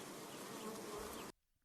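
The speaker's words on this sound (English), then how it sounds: "I'm really sorry about the buzzing bees in your ears" Honeybees buzz in a dense, loud, continuous drone close to the ear, then cut off abruptly into near silence.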